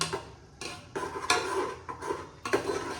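A spatula scrapes and clinks against a cooking pan while ground masala is stirred and fried, giving irregular metallic scraping strokes at moderate level with no talking.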